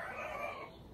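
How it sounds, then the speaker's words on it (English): A chicken clucks and crows somewhere in the background, a short burst of fowl calls that sounds fairly distant and soft. "Did you hear that chicken?"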